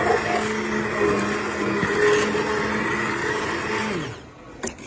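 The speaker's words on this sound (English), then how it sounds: "I'm going to use my immersion blender to break everything up, just like applesauce." An immersion blender whirs steadily while pureeing old fruit cooked down like applesauce in a pot, a loud continuous motor drone with a constant pitch that winds down and stops near the end.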